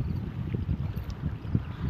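Ocean waves wash in a steady, continuous low rumble with gentle swells of surging water, fairly close and alone with no voices, used as an opening ambience.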